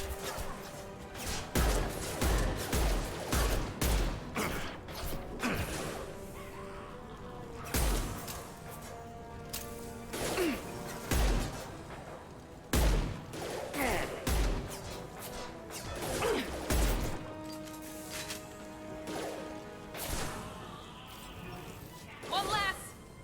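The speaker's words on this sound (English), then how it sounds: "Time to test out my new pistol." A new pistol fired in the video game Mass Effect 2: sharp single shots come in scattered groups and short rapid runs over about twenty seconds, with game effects and a voice heard between them.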